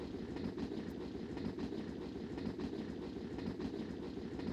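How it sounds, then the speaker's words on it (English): A train passing in the horror video game Homicipher, a loud continuous rumble with a rhythmic clickety-clack of wheels on rails, close and steady throughout. "Wait, that's a train."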